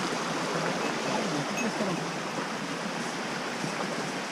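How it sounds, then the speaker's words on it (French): Water rushes over a small cascade on a little river, a steady, fairly close broadband roar with no talking. "Petite cascade."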